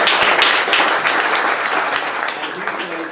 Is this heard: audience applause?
yes